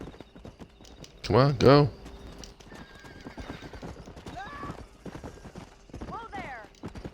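Horse hooves pound in a steady gallop while riding in Red Dead Redemption, with two loud whinnies near the start and a voice urging the horse on over the hoofbeats.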